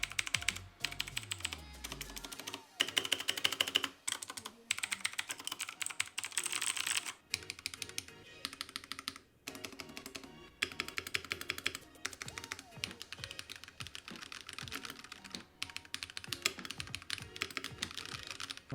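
Typing on a computer keyboard before modding, with rapid, dense clacking keystrokes in bursts and brief pauses, close and fairly loud throughout.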